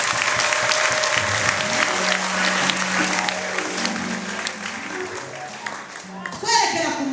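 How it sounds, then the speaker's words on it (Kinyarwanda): A large audience claps and applauds steadily for several seconds, a dense loud patter filling the hall, with a voice and music-like tones running underneath. "Muba mwatanze abandi mugakoma amashyi."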